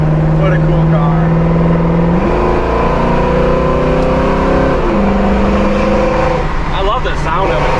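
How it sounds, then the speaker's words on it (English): A 1969 Chevrolet Nova Super Sport with a new dual exhaust, from the video game Motor City Online, revs loudly and close. Its engine holds a steady drone, climbs in pitch, then drops back before climbing again. "New dual exhaust sounds awesome."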